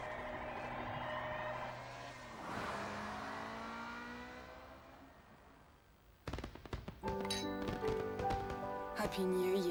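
A car in 007 Nightfire drives with a sustained, shifting engine whine, then gives way to a busier burst of crackling bangs and electronic tones, with talk throughout.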